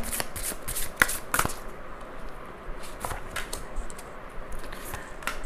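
Tarot cards are shuffled by hand in quick, crisp riffles and slaps, close and continuous, with several sharper snaps along the way.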